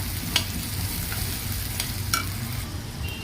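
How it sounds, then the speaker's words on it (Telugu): Onion pieces fry in oil in a pan with a steady, even sizzle and occasional soft scrapes and clinks from stirring, heard close up with no voices. "ఇప్పుడు ఈ ఆనియన్స్ని గోల్డెన్ బ్రౌన్ కలర్లోకి వచ్చేలాగా వేయించుకోవాలన్నమాట"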